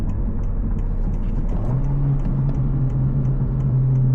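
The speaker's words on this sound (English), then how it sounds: "So it burbles a little bit more when I downshift" A Honda Civic Si with a catted downpipe and tune burbles its exhaust on a downshift: a steady, loud engine drone fills the cabin, with a low burbling tone rising midway and holding to the end.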